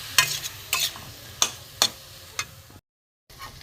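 Spatula stirs spiced masala filling for Bengali banana flower chops in a pan over low heat, giving five or six distinct scraping sweeps with a faint sizzle beneath, then a brief silent gap before the stirring resumes.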